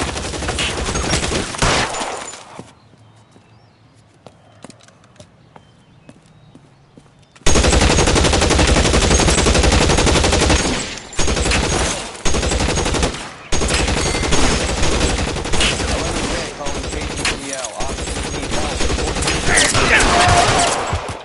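Gunfire in the 1940s Los Angeles crime video game L.A. Noire: dense, loud bursts of rapid shots, broken by a quiet stretch early on, then sustained volleys with short pauses; some voices occur in the scene.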